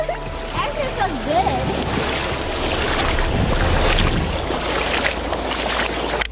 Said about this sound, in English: Guys, we hear the water.